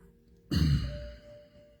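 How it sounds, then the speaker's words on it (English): A single long, slow exhale during a live guided meditation, close and soft, starting with a sighing rush of breath that gradually fades out. "followed by a really long, really slow exhale"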